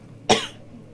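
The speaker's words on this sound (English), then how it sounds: "I'm probably gonna cough a lot." One short, sharp cough, close by, followed by quiet.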